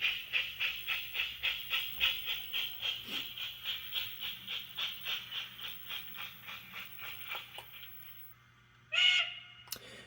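A Mount Blue On30 model steam train chuffs in a steady, even rhythm that fades out. After a short pause, it gives one brief, clear whistle toot close to the listener.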